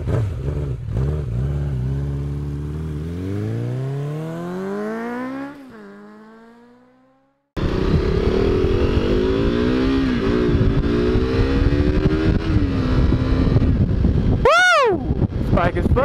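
A starter motorcycle engine climbs steadily in pitch as it accelerates, drops off and briefly cuts out, then roars back at steady speed with heavy wind buffeting and a short rising whoop near the end.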